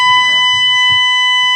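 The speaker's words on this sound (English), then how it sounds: "So the alarm in my house just went off." A household fire alarm sounds inside a house, a steady loud electronic tone with bright harmonic lines held throughout, over faint low background rumble.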